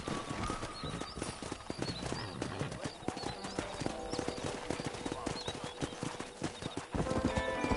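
Hooves of wild horses in Red Dead Redemption clatter in a quick, continuous clip-clop gallop with an occasional whinny, layered over background game sounds, moderately near, with talking over part of it.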